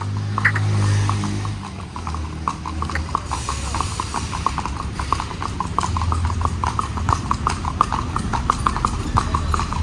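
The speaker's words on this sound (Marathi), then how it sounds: "गफलत उर्फ बटाट्या उर्फ आदित्य क्षीरसागर बाबा बसलेले आहेत त्या घोड्यावर" Hooves of a mare pulling a buggy and carrying a rider clip-clop in a steady, even rhythm on a road, close and continuous, with a low rumble underneath and no talking.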